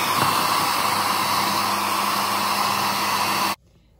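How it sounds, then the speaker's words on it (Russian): A hair dryer blows hot air steadily onto tape with a loud, even whooshing hum, then cuts off abruptly near the end, leaving near silence. "ну а теперь берем фен и греем горячим воздухом"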